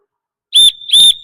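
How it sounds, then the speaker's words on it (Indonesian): Two sharp, shrill whistle blasts close together during a physical education class, loud and short, with silence before them. "Ketika bunyi peluit, lari kecil."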